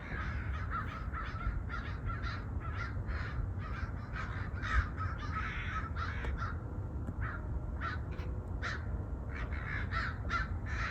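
Crows caw repeatedly in a garden in January, mobbing a large hawk, their harsh calls coming in quick rhythmic bursts over steady outdoor background noise.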